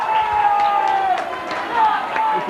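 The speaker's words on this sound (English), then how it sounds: "there's a few boos coming from the crowd too" Crowd noise at a 1995 A Grade grand final football match between Scarborough and Nollamara, a steady broad roar of spectators with possible booing, heard under continuous commentary.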